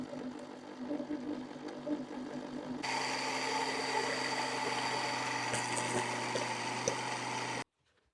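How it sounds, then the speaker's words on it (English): A grinder powders sun-dried ginger in a traditional Nepali preparation, first as a low hum, then a louder steady whirring drone with a few sharp clicks before it cuts off abruptly. "then we start the grinding process."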